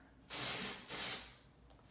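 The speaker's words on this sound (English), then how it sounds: "spray it on" Two sharp hissing bursts of an aerosol dry shampoo can spraying onto hair, each about half a second, followed by a brief third spritz at the end.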